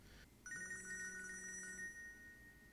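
A telephone rings during a movie, a clear electronic ringtone with a bright repeating trill that starts abruptly and holds for over a second before trailing off, fairly quiet overall with no talking.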